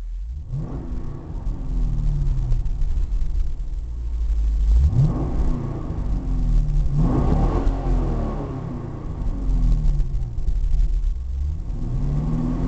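Revving V8 exhaust of a 2010 Chevrolet Camaro SS heard from inside the cabin, with a steady engine rumble and three or four rising throttle blips that swell and fall back, loud and muffled through the car body, no talk.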